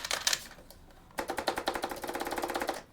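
Rapid run of light plastic clicks from the fret buttons of a light-up Guitar Hero guitar controller, a brief burst followed by a dense, steady clatter of close taps, no talking.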